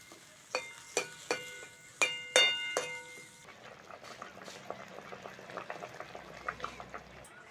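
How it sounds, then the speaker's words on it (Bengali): A pot of vegetable curry with flat beans and potatoes, seasoned with turmeric, salt and chili, is tapped with a few ringing metallic clinks, then the gravy bubbles softly at a steady boil. "ঝোল ভালোভাবে ফুটে গেছে"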